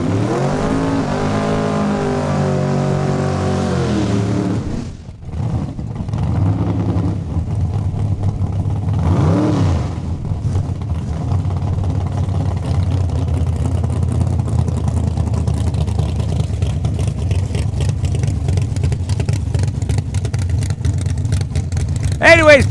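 Drag racing cars launch at Saskatchewan International Raceway, engines droning then dropping and roaring again as the cars pull away, loud and sustained with a commentator talking over much of it.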